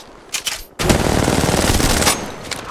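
Rapid automatic gunfire in the video game Apex Legends, a few quick shots followed by a sustained loud burst of fire lasting over a second.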